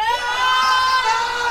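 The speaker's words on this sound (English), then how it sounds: "Control room, round of applause for Patrick, please." Studio audience in a control room erupts in loud screams and cheering for a guest's arrival, a dense, steady wall of excited shrieks and whoops lasting the whole moment.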